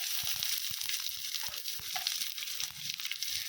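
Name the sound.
onions frying in pan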